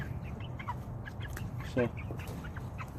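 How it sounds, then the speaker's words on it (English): Chickens clucking on fresh ground at a farm, a loose flock giving scattered short clucks and one louder squawk up close, with a voice briefly over them. "Hey birds, there they are."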